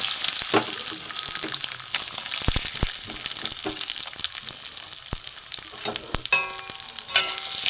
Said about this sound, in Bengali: এগুলো আমি ভেজে নেব ড্রাই ফ্রুটগুলোকে আমি প্রথমে ভেজে নেব